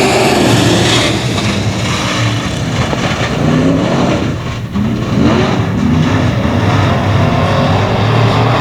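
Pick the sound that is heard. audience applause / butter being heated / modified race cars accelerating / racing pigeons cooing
modified race cars accelerating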